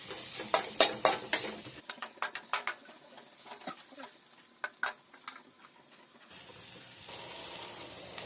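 Fennel seeds fry in a pan for macaroni masala, with a run of sharp spoon scrapes and clicks against the metal over a soft sizzle that swells into a steadier hiss near the end.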